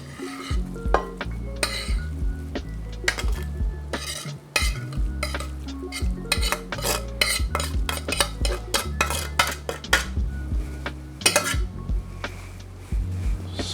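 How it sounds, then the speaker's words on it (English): A spoon clinks and scrapes steadily against a baking dish as meat sauce is spread over a layer of pasta for Greek pastitsio, close and busy throughout. "on top of this, I'm gonna place my meat sauce."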